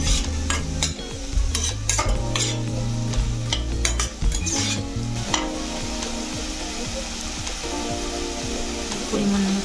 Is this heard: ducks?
no